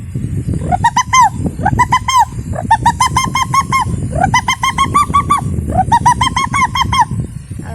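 A voice imitates a pigeon's call in four repeated bursts of warbling, cooing notes, with a low rumbling background underneath.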